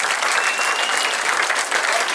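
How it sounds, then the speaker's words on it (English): Comedy club audience at the Punchline in Sacramento breaks into dense, steady applause, a continuous wash of many hands clapping close and loud throughout, with no talking over it. "All right, big round of applause for Rodney Dangerfield"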